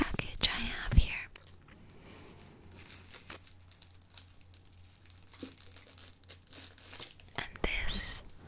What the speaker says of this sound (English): we're going to be moving on to the next crinkly package I have here